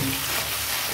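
Poppy seeds frying in a pan with salt and spices, a brief close, continuous sizzle with no talk.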